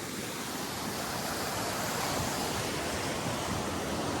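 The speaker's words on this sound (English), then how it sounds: "we made it to the creek." A mountain creek rushes steadily in a cloudy, cold setting with snow still around, giving a dense, continuous broadband wash of water noise close to the microphone, unbroken and without voices.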